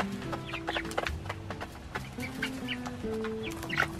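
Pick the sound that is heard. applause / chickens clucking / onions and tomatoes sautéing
chickens clucking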